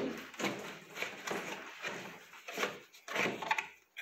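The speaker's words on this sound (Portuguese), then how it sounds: "Terceira porta encaixando." A shoe cabinet door is being fitted into place during assembly, giving a series of soft wooden knocks and sliding bumps in irregular bursts, close and fairly quiet, with no talking.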